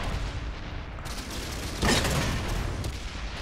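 A tank cannon shot in the video game World of Tanks, one heavy booming blast partway through, loud and near, set against a constant rumbling engine and battle background.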